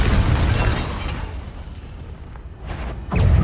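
Confringo spell blast in the Hogwarts Legacy video game, a loud booming burst that rumbles and fades, followed by a second sharp crackle near the end.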